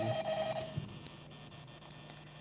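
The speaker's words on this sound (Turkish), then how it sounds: "Telefon çalıyor abi." An electronic telephone ring from the video game Five Nights at Freddy's trills briefly against a steady background hum, fairly faint, with a couple of sharp high blips.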